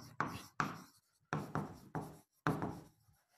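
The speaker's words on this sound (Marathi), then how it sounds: "तुमच्या मित्रांचे नाव लिहा" Friends' names are written out by hand, heard as five short, scratchy strokes in quick groups, close up and moderately quiet, with brief silences between them.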